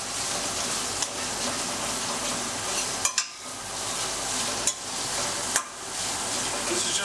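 Raw, uncooked sausage browning in a pan over medium-low heat for breakfast burritos, a steady close sizzle with a few sharp clatters of stirring near the midpoint and later.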